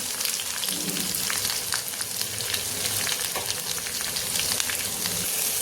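Chopped onion and turmeric fry in a pan for chana palak dal, giving a dense, continuous sizzle with crackling spatters and occasional stirring scrapes, close and fairly loud.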